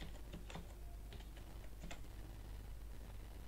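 Quiet computer keyboard typing in a few sparse clusters of clicks against steady background hiss, close but soft.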